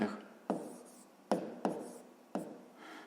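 Pen strokes scratch across paper nearby as a worked multiplication problem is written out by hand, a series of short, distinct scribbling bursts with small pauses, no voice.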